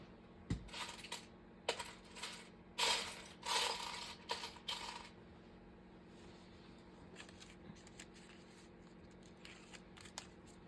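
Buttons rattle and click in a container as someone rummages through them, a flurry of small plastic clicks and clatters at first that thins to occasional faint ticks.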